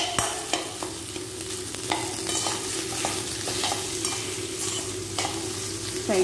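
Food crackles and sizzles in a pan up close, with scraping stir sounds and occasional sharp clicks of a utensil; no voices.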